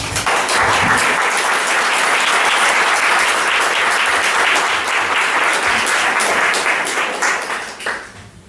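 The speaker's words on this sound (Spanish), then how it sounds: "Me gustaría un aplauso para todo el equipo." A conference audience applauds in a dense, steady wash of clapping that stays loud for about seven seconds, then fades out toward the end.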